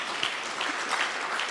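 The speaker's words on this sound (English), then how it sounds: "Give her a clap" Delegates at a cooperative society's annual meeting clap in a steady, moderately quiet round of applause that spreads evenly across the room, with no voices over it.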